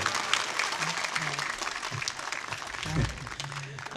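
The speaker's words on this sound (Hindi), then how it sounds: "ताली बजाओ, मुक्तक और सुनवाओ इनसे" Audience clapping at a Hindi kavi sammelan poetry recital, steady dense applause throughout with a few low voices and murmurs mixed in beneath.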